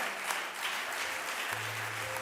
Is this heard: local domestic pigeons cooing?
no